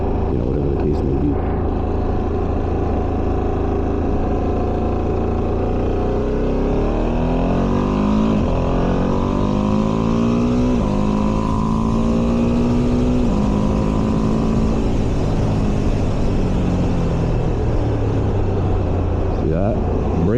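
A Ducati Streetfighter V2S motorcycle accelerating on the road, its engine note climbing through rising revs and gear changes, loud and close under steady wind rush, while a rider talks over it.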